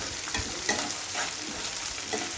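Garlic, shallots and curry leaves sauté until golden in a pan, giving a steady close hiss of frying oil with occasional stirring scrapes over the top, and no voices.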